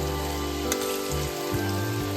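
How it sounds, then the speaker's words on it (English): A crispy tea-time snack fries in hot oil with a dense, continuous sizzle and faint popping, close and steady throughout. "Heat some oil and start frying the snack."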